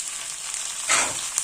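Chopped tomatoes sizzle in a frying pan while being stirred, a close steady hiss that swells briefly near the end of the short moment, with no talking.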